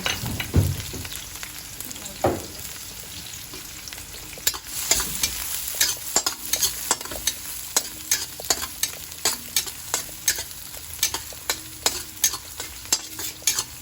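Garlic sizzles in a frying pan while it is cooked for pinakbet. A steady hiss runs under a string of quick, rhythmic spatula scrapes and stirs that grow busier halfway through, close up, with no voices.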